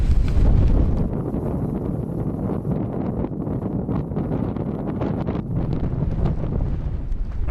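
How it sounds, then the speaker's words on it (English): Strong wind buffets the microphone high in the Assynt mountains of the Scottish Highlands, a loud, continuous low roar with gusty surges that stays steady for the whole stretch with no voices. "Stunning, but so sketchy with this wind."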